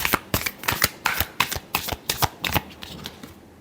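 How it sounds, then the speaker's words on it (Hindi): Tarot cards shuffled during a reading, riffling in about a dozen quick, crisp bursts that patter in a steady rhythm, close and alone with no talk. "Last shuffle."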